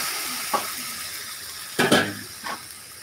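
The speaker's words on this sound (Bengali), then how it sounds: "অল্প কিছু পানি দিয়ে" A little water poured into a hot cooking pot brings short splashy hisses: a brief spurt, then a louder gush with a sizzling burst, and a last small splash, with no talking.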